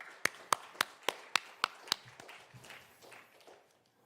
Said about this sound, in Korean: 우리 다시 한번 우리 하나님께 감사와 영광의 박수를 드리겠습니다.